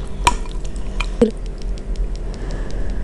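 A spoon stirs bakso aci meatball soup in a bowl, with a couple of sharp clinks against the bowl followed by soft wet sloshing and quiet scraping, close up and without talk.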